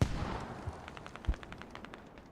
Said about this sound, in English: Mortars are mismarked, still going out overhead.